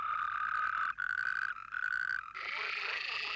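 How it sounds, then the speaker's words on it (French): Male toads and frogs of the Sidobre call together in a dense, continuous chorus of trilling croaks that drops out in brief gaps and then swells back, loud and close with no talk. "tous les mâles réunis de crapauds et de grenouilles se mettent à chanter pour séduire leurs belles"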